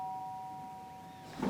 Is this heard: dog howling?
no